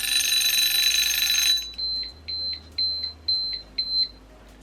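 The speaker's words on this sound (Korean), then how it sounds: "바로 구글 타이머를 활용하는 거예요." A Google Timer alarm beeping on a desk: after a burst of broadband noise, a thin high electronic beep repeats in about six short evenly spaced pulses, close and clear.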